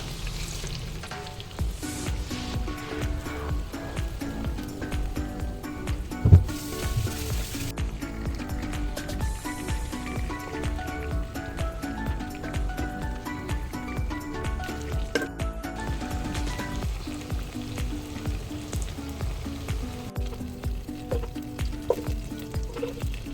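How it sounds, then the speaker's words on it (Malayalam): Steady crackling sizzle of chicken deep frying in hot oil, continuous and close, with occasional clinks of a utensil and a soft hum underneath. "നമുക്കിനി ഓൾറെഡി സെറ്റാക്കി വെച്ചിട്ടുള്ള ചിക്കൻ വറുത്ത് കോരിയെടുക്കാം"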